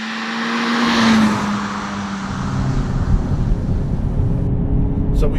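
A Hyundai Veloster Turbo R-Spec's engine drones loud and close from inside the car as it climbs uphill under load, the pitch sagging slightly and then holding steady with road rumble underneath.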